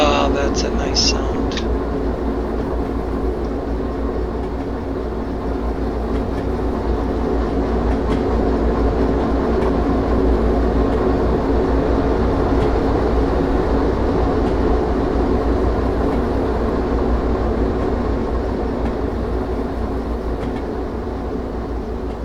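In the Derail Valley train game, freight wagons roll along the rails with a steady rumbling, clattering drone that stays loud and continuous, with a few faint clicks near the start.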